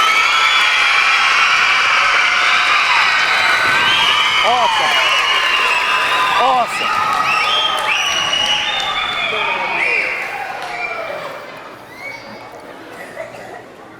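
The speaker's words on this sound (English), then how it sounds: "I want you to be as loud as you possibly can and give them a round of applause" Elementary school children at a Veterans Day assembly cheer, shout and applaud loudly in a sustained roar that fades toward the end, with an adult voice speaking briefly over the crowd.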